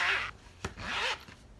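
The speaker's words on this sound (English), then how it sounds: "So now what you're going to do is take this zipper and pull it open." A zipper on a fabric double-pocket pouch, made with a Cricut Maker, is pulled open in two close, quiet raspy strokes with a short pause between them.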